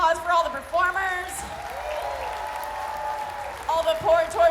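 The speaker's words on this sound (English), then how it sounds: "One more round of applause for all the performers" An audience at a variety show at Dragon Con 2022 claps for the performers, a broad wash of applause that sits beneath a voice talking at the start and end.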